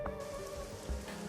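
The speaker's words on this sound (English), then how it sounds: "Hey look, it's raining." Rain falling in the video game Shadowrun: Hong Kong, a steady soft patter over tonal background music, heard alone at moderate level.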